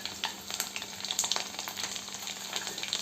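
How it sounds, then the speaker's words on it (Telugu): Cumin, a little fenugreek, mustard seeds, dried red chillies and garlic crackle and sizzle in hot oil as a dal tempering, a steady close hiss broken by sharp popping spits throughout. "ఆయిల్ వేడెక్కిన తర్వాత ఇందులో జీలకర్ర, కొద్దిగా మెంతులు, ఆవాలు, తిరగబాత వేసేసుకున్నాం"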